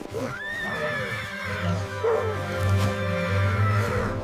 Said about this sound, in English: The horse is safe now